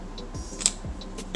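Scissors snip through thread right at the edge of a beaded waist chain, giving a single sharp, close click amid quiet handling and a few light ticks.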